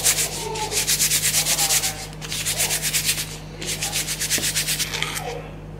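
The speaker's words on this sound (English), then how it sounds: "I'm just heating up some wax strips at the moment" Wax strips are rubbed briskly between hands to warm them, giving fast rhythmic scratchy strokes in three close bursts separated by short pauses.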